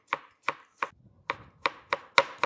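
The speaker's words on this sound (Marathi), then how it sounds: "तर आपण ग्रेव्हीसाठी टमाटर पण कट करून घेऊ।" Tomatoes being chopped with a knife on a board for a vegetable kolhapuri gravy: seven sharp, evenly spaced chops, close and clear, with no talking.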